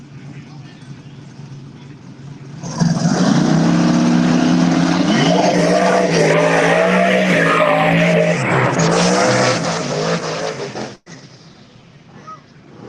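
Race cars in a no-prep drag race at Coonley Motorsports Park, an engine roaring in at full throttle with squealing tires and rising revs, loud and close, cutting off abruptly near the end; people talk over it.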